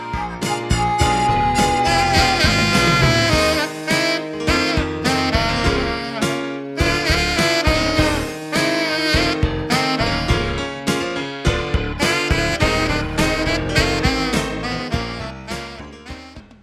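A saxophone plays a melodic theme in a full arrangement over a steady rhythm backing, loud and continuous throughout.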